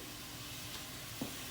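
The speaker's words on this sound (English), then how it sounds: "what we're gonna do is we're gonna add a little bit of our liquid to it" A soft, steady sizzle rises from spicy Italian scuie-scuie sauce in a pan as a little liquid is poured in, faint and brief, with one small bubbling pop near the end.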